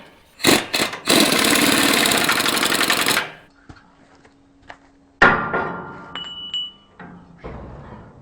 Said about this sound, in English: Now I'll cut that end one off with a hacksaw.